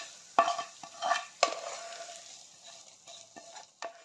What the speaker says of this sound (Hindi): अब हम इस तड़का को इस दाल ढोकली में डाल देंगे